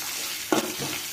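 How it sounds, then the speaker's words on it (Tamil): Beans and carrots hit hot oil for sautéing in a pan while upma is being made, giving a sudden close sizzle and stirring scrape that settles into a softer steady frying hiss, with no voices. "எண்ணெயிலே வதக்கணும்"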